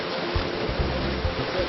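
A waterfall pours into a plunge pool, giving a steady, loud broadband rush of falling water with low thumps underneath, continuous through the moment.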